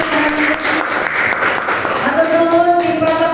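A seated audience at a university graduation MC training session breaks into steady, sustained applause, with a voice talking over the clapping.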